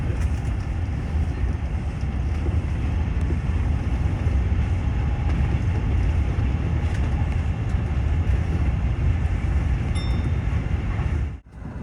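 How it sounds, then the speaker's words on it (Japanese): Tokyu express train on the Oimachi line pulling out of Mizonokuchi station, steady loud rumble and rail noise heard from inside a crowded car, running continuously before a sudden dip at the end. "溝の口を発車しました。"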